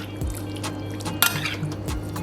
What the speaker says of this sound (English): I'm going to give this a good mix